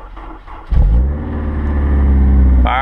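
Honda S2000 engine cranking briefly and then catching, settling into a loud, steady idle rumble close by, with a sharp higher noise rising near the end.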